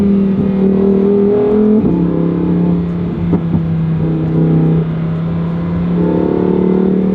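A new Lamborghini Huracan Tecnica with a seven-speed dual-clutch gearbox: a loud, steady engine drone from inside the car, rising and settling, with a faint sharp pop partway through.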